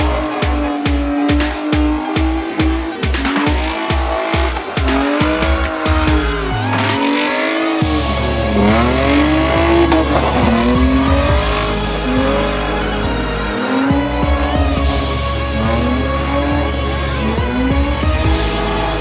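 A Mercedes drifting at a driving-training session gives rapid, loud engine revving bursts, then long, wavering tire squeals and skids over a sustained engine roar, with no voices.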